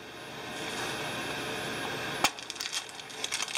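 A spent pistol shell casing from a Smith & Wesson Bodyguard 380 box is set down on a hard surface, giving one sharp metallic click followed by a few faint small taps and rattles against quiet background hiss.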